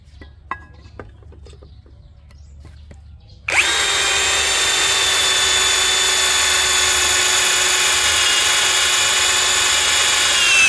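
A GTools GT04 cordless brushless drill with a 5 mm bit bores into 1 cm thick iron plate, starting abruptly after quiet and holding a loud, steady high-pitched whine with grinding bite for several seconds.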